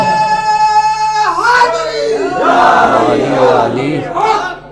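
A crowd at a 13 Rajab religious poetry gathering chants slogans in loud unison: a sustained voiced call swells into many voices rising and falling together at close range.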